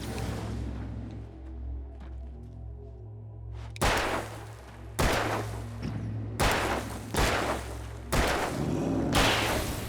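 Revolver gunshots in the video game Alan Wake: after a quiet stretch with a low ambient hum, five loud, sharp shots ring out at roughly one-second intervals, each with a short echoing tail.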